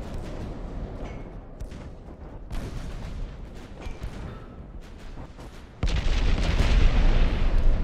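Naval guns fire and high-explosive shells strike ships in Ultimate Admiral: Dreadnoughts, a World War II sea battle off Savo Island, with scattered booms and thuds building to a loud sustained roar of explosions near the end.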